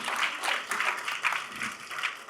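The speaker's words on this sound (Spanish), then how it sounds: "yo también aplaudo" Audience applause at a lecture on the life and work of Juan Pablo Duarte, moderately quiet clapping from a crowd with a gently rising and falling, pulsing texture and no voices on top.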